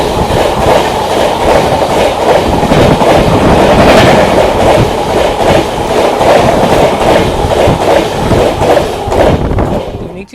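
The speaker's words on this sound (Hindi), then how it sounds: "यहाँ से भी ट्रेन को डिपार्चर मिल गया बट ओवरटेक नहीं हुआ है" A Humsafar Express train departs and runs past at close range, with a loud, continuous rumble and a rhythmic clickety-clack of wheels over rail joints that drops away sharply in the last moment.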